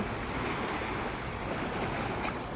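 Sea waves washing onto Dong Tan beach make a constant, broad surf roar, mixed with buffeting wind noise on the microphone and no voices.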